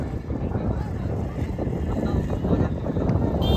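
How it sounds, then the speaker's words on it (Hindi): Strong wind gusting across an outdoor single-wicket cricket match, a dense, steady roar of wind buffeting the microphone with no gaps, close and fairly loud throughout. "काफ़ी तेज हवाएं"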